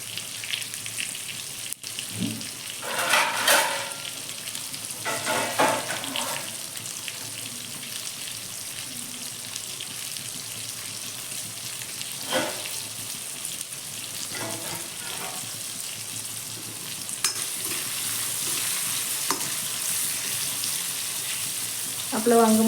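Eggplant frying in oil in a pan over a full gas flame, a steady soft sizzle with intermittent stirring clatters and splashy bursts, fairly close, with brief sounds of running water near the end.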